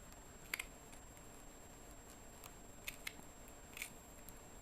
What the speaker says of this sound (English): now I'm just cutting out